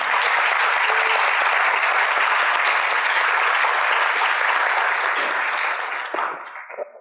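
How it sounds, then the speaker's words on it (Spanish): An audience at a political gathering on diverse women in politics applauds warmly for Rebeca, a dense, sustained wash of clapping that holds steady for several seconds before tapering off quickly at the end. "Les pido un gran aplauso para Rebeca."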